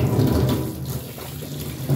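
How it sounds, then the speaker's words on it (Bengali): Tap water runs steadily into a sink, a continuous close rushing stream with no voices, as someone rinses their face under it. "তো সেই কারণে মুখটা ধুয়ে নিই"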